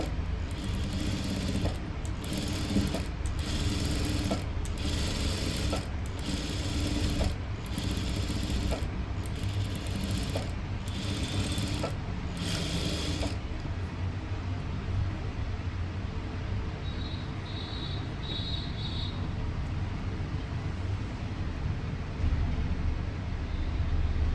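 A sewing machine stitches along the edge of a blouse, with short regular bursts of needle clatter over a steady motor hum for about half the time, then a continuous even hum with no talking.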